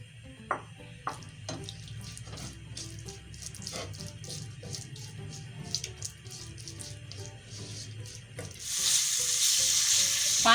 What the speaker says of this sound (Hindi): एक टेबल स्पून मैंने तेल डाला है और हम इसमें मछली डालेंगे।